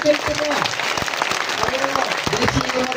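A crowd at a farmers' protest claps in a loud, steady burst of applause that runs throughout, with a voice speaking over the clapping.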